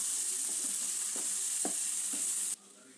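A curry base of chopped tomatoes fries in a pan for a drumstick chicken curry, a bright steady hiss with a few soft stirring scrapes, until the sizzle drops abruptly near the end.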